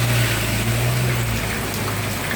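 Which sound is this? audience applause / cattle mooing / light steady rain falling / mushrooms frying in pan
light steady rain falling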